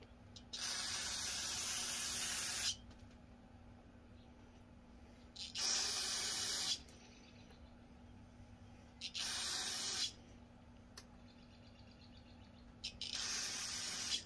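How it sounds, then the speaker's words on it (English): Spray cleaner hissing onto engine valve parts from a Farmall Cub tractor during a valve job, four separate bursts of steady aerosol spray of a second or two each, with quiet gaps between them. "I'm going to spray these down, and I'm going to wipe these with a clean rag afterwards."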